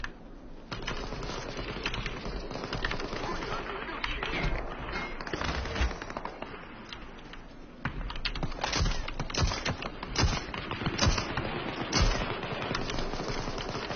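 Gunfire in the battle royale game PUBG, dense bursts of rapid shots and clicky rattles, some near and some farther off, running through the whole stretch with a few faint voices underneath.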